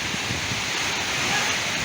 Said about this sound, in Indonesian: Angin banter guys.